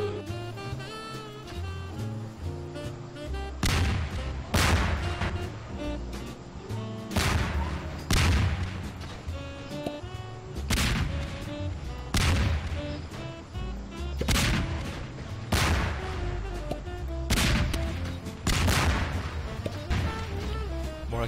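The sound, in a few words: explosions in Garry's Mod video game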